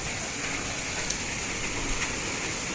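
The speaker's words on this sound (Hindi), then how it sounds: "आपको बारिश की आवाज़ भी आ रही होगी" Heavy rain pours steadily on a rainy day, a continuous dense hiss of drops with a few sharper splashes standing out, close and fairly loud with no voices.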